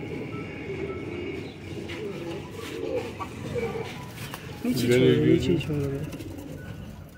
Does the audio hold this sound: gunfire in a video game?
no